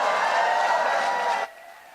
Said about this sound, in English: a loud round of applause for Senator Adam Schiff